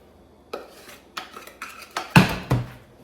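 A spoon scrapes and knocks against a pot while caramel sauce is stirred into popcorn and nuts, giving a series of irregular close clinks and scrapes, one louder clatter near the end.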